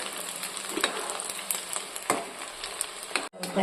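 Leftover-rice manchurian balls frying in hot oil, a steady close sizzle with light clinks of a spoon stirring through it, ending in a brief pause and a scrape.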